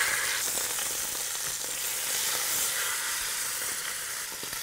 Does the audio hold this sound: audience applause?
no